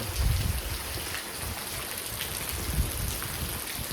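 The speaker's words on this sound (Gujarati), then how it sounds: "ફૂલ પવન સાથે ફૂલ વરસાદ પડે મિત્રો" Heavy rain falls with strong wind in a Gujarat village during a storm, giving a dense, continuous roar with low rumbling gusts at the start and again near the end. No one talks.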